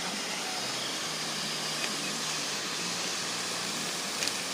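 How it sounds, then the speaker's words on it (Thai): Water pours over the cliff at Thit Mi waterfall in Nam Nao district, Phetchabun, with the flow not covering the full rock face. A steady, even hiss of falling water runs throughout at moderate distance. "น้ำไหลไม่เต็มหน้าผานะครับ"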